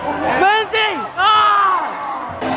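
Loud voices yelling and cheering together, rising in bursts with brief dips between, like a small group shouting excitedly at close range.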